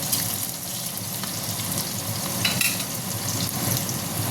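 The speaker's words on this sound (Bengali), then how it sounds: "এই দেখো এবার আমি আলুগুলো ভালো করে ভেজে নেব।" Potato pieces fry in a pan for an eggplant, potato and egg curry, producing an even, close hiss and sizzle with occasional faint stirring clinks and no voices.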